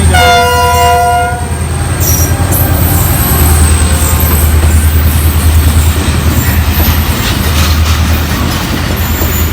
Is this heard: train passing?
yes